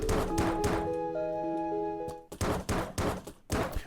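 Enemy gunfire aimed at the player in the video game Environmental Station Alpha, heard as a string of short, dull thunking shots in uneven bursts over sustained tonal game music.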